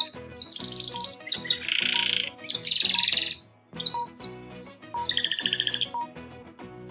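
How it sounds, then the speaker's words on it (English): A canary sings close and loud in a lively stream of bright trills, chirps and warbled phrases, broken by short pauses, with no voices. "It's canary."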